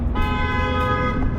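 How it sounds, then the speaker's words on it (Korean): A car horn honks on a street in one long sustained blast that holds steady for over a second, loud and close against a background rumble of traffic. "아이고야, 빵빵거리네."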